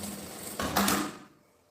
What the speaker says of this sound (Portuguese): E aqui também eu já vou costurar o tirante, uma costurinha de cá e outra de cá